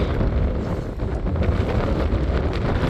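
Steady, loud wind buffets the microphone at Los Banos Aqueduct on a windy fishing day, a continuous low roar and rumble with no pauses and no talking.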